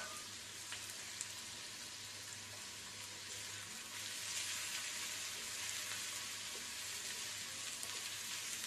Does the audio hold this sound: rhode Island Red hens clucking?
no